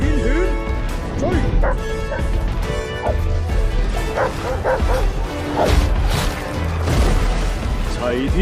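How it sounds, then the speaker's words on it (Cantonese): Xiaotian Quan, the celestial hound of a Monkey King drama, gives rapid yips and barks on the chase, loud and close over a dense, busy background of music and clamour. "哮天犬，追！"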